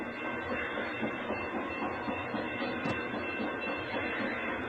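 Freight train on the CP railway carrying Schneider containers passes close by, a steady dense rumble and rattle of wheels and cars with a faint clickety-clack throughout.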